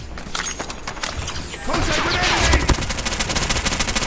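Rapid bursts of automatic gunfire from the AS VAL rifle in Call of Duty Mobile, a dense, loud stream of shots with crashing impacts and a voice talking under it.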